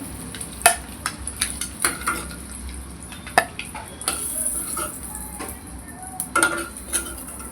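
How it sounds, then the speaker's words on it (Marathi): Eggs sautéing in a pan of oil for an egg biryani, with a soft steady sizzle under frequent clinks and scrapes of a spatula or spoon against the pan. "छान असं तेलात परतवून घ्यायचं त्यामध्ये सोडायचे अंडी"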